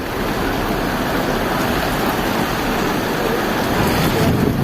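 Floodwater of the Parvati river rushing over a submerged highway bridge, a loud, dense, continuous roar of churning water with wind buffeting the microphone, steady from start to finish with no voices.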